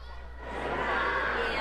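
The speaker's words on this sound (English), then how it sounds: "I'll try and make sure that you can hear them through some of their cheering" A girls' high school basketball game between Hanover and Delone Catholic, with cheerleaders chanting in the gym, a crowd-like wash of voices swelling in the distance over a steady low hum.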